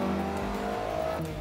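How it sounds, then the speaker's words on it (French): Renault Clio Williams engine with 150 horsepower, held steady at the rev limiter as a loud, close, buzzing drone that pulses slightly for about a second and a half, with no talking. "Un petit coup sur le rupteur, le fameux Rev Limiter."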